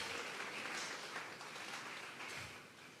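A church congregation applauds, a dense, fairly faint patter of many hands clapping continuously, tapering slightly toward the end, with no talk.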